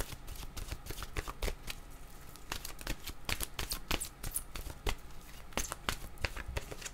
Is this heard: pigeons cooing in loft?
no